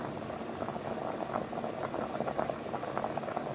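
A pot of Jamaican rice and peas simmering on a stove, with a steady, soft bubbling and light rattling that continues evenly throughout, quiet and close, with no voices.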